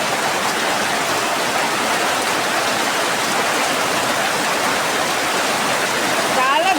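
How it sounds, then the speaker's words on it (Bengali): Heavy rain pours down in a loud, dense, unbroken roar that fills every moment, with no let-up or break from start to finish. "এতটাই বৃষ্টি জোরে আসছে"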